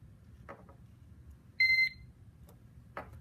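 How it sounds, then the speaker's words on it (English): A single short electronic beep from a gas meter powering on, bright and clear, sounds in a quiet room, with faint clicks and handling noises before and after. "you're going to hit the on-off mode button until you hear a beep"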